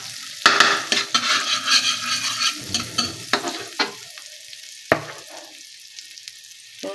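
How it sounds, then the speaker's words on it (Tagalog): Garlic dropped into melted butter in a pan sizzles and crackles loudly up close, with stirring scrapes and light clinks of a utensil against the pan, fading to a softer fry toward the end. "Ayan, lagay ko na yung bawang."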